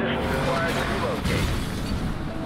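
Car crash in the racing video game Need for Speed Most Wanted: a loud, dense roaring rumble with a heavier booming impact swelling near the middle, continuous throughout.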